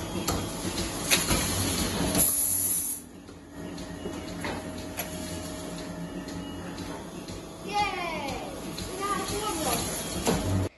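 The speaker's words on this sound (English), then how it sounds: "The robot uses a camera and arm to locate each teat and attach the cups." A robotic milking machine that uses a camera and arm to attach cups to cow teats in a dairy: continuous mechanical hum with sliding, clunking movements and a few rising whirring tones from the arm.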